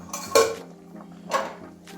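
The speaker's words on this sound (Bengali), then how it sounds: "এবারে ঢাকনাটা খুলে নিচ্ছি" A lid comes off a cooking pot of fish curry with two sharp metallic clinks and scrapes, close by, separated by a quiet pause.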